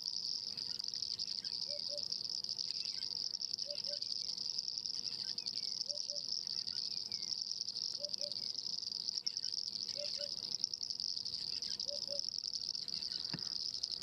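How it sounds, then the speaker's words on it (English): An African hoopoe repeats a soft double hoot about every two seconds at a sunrise wild spot, faint and steady over a constant high drone of insects. "Bird calls and the frog calls"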